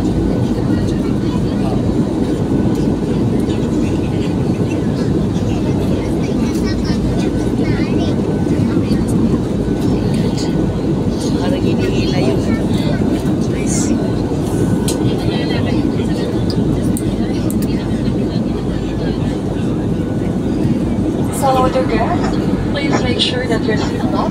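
Airplane cabin noise in turbulence: a loud, steady broadband roar of engines and airflow fills the cabin throughout, with faint rattles and a few soft voices in the background.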